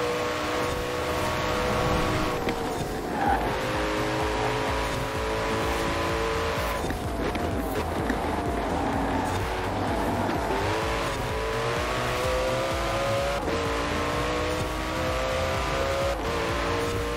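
Racing car in the video game Forza Horizon 4, its engine roaring and shifting through gears continuously with repeated rising revs and tire squeal on a long track, loud and close with no talk.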